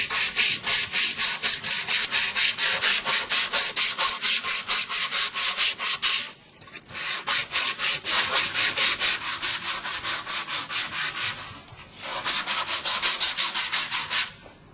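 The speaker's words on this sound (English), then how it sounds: "And here we have the abrasive cloth." Abrasive cloth scrubs the surface of a pipe insulation joint in quick, rhythmic back-and-forth strokes, loud and close, in three bursts separated by short pauses.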